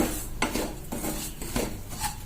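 A spoon stirs semolina roasting in a pan over low flame, making about four rhythmic metallic scrapes close up with no talking.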